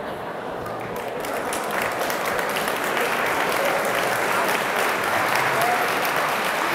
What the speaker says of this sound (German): Wir bringen ihn zum Klatschen.